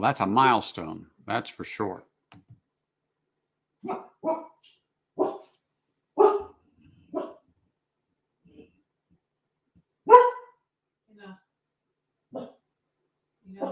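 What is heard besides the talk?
dog barking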